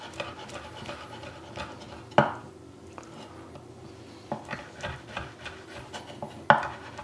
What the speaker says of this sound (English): we're just going to cut it up a little bit on our board